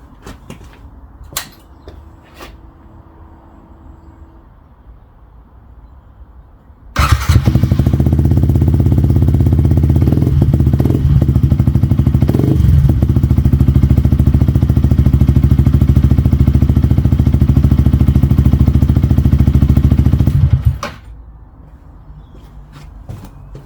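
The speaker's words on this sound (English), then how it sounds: "I'll just do a quick sound test now that it's on. I'll do it with the baffle out first." A Yamaha MT125 motorcycle with a new aftermarket exhaust and the baffle removed starts up loud and close, holding a rough, steady idle with a few blips for about fourteen seconds before cutting off abruptly.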